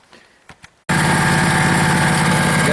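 An old engine, jump-started with starting fluid, bursts into life after a few faint clicks and then runs loud and close with a steady, rough idle.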